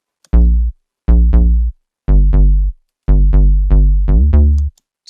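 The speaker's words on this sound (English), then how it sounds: "A nice sort of very deep house bass" Dry deep house synth bass made in FL Studio with no effects, playing short, rounded, plucky notes in a bouncy rhythmic pattern, loud and alone, each note decaying quickly.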